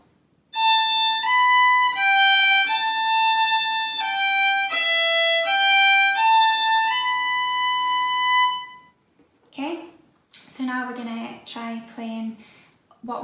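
Solo Manx fiddle plays phrases of Myr Shenn Ayr, a run of bowed notes in steady rhythm, close and bright, for about eight seconds. A voice then talks briefly after the playing stops.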